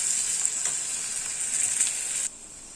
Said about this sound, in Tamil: இதை லேசாக வதக்கிட்டு நம்ம தாளித்து இட்லி சாம்பாரில் ஊற்றிடலாம்.